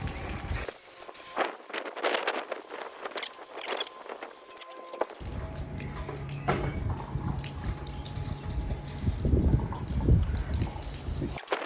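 Water flushing out a pipe or fitting during a bedroom renovation, a steady gushing flow that starts after a brief quiet gap and continues loud and close for several seconds.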